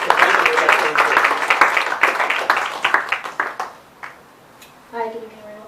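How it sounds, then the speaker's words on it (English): An audience at an evening bookshop event claps warmly, a dense burst of applause that thins into scattered individual claps and fades out, followed by a person starting to speak. "I would just like to ask you to give a big round of applause to all of them, to Shivani, and the two writers"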